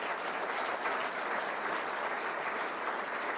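Audience applause at a workshop talk on refuge management, a dense, steady wash of clapping from a full room that holds even throughout, with no one speaking over it.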